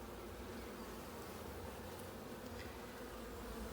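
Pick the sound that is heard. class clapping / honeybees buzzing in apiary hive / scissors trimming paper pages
honeybees buzzing in apiary hive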